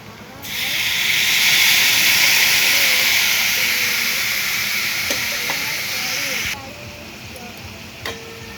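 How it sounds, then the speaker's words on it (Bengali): Water poured into a hot cooking pot, setting off a loud, sustained hiss of steam that runs for several seconds and then cuts off, followed by a soft tap, with faint speech underneath. "এখন আমি জল দিয়ে দেব।"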